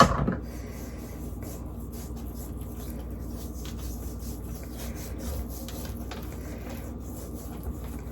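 Dry seasoning rub is worked by hand onto raw salmon for a stuffed seafood salmon loaf, a steady close rasping and rubbing that runs unbroken for the whole stretch with no talk.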